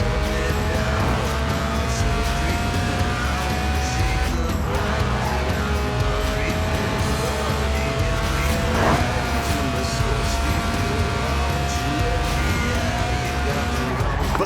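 A Lotus Elise Sport 190, a stripped-out track-day car, drifting in the racing game Forza Horizon 4, its engine droning loud and close with rising and falling revs and repeated tire squeals throughout.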